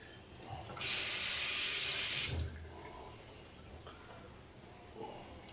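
Water from a tap runs in a steady hiss for a couple of seconds while rinsing after a shave, with quieter sink handling noises after it stops.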